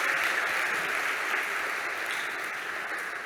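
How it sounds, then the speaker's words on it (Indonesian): Applause at a high school graduation ceremony at SMAN 6 Depok, a continuous, even hiss of many hands clapping at a moderate distance, fading slightly toward the end. "Ya, tepuk tangan."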